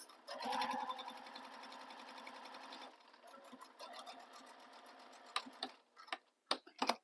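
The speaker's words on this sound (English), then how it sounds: "we're going to take this and top stitch this using the seam allowance given in the pattern" A sewing machine top stitching the long fabric edges of a stocking, running in a fast, steady mechanical whir. It slows into a few short, separate bursts of stitching toward the end, with no talking.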